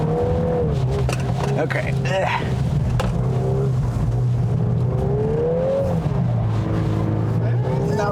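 A 2022 Volkswagen Golf R drifts with its engine revving in long rising and falling pulls, close and loud, while someone talks over it.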